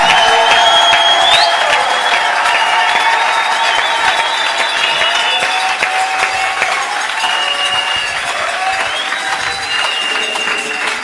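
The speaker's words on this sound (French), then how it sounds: "Acclamez le Seigneur Jésus." Church congregation cheering and applauding loudly throughout, a dense steady wash of clapping with whoops and shouts rising over it, no speech heard.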